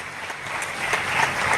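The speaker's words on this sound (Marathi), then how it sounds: "सर्वांसाठी आता जोरदार टाळ्या झाल्या पाहिजे" Audience at a felicitation ceremony for successful police recruitment students clapping together, a brief dense burst of applause that swells slightly near its end.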